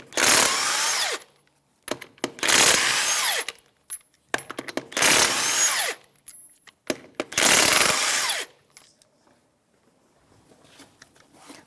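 Power tool with a 21mm socket spinning off wheel lug nuts on a 2013-2018 Toyota RAV4 during a front brake job, four loud close whirring bursts separated by brief pauses and small clanks.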